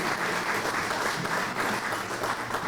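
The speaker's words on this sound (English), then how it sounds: "Love to hear those claps." An audience at a donors appreciation banquet claps together in a steady, full burst of applause that fills the room with no talking over it.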